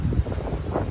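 Strong gusty wind sweeping across rice fields in Pagudpud, Ilocos Norte, buffeting the microphone with a steady low roar and rustling leaves, loud and continuous with no one speaking.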